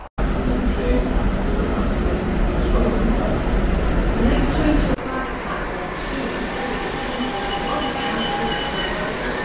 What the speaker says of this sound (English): Right, that's the train going to Llandudno or Llandudno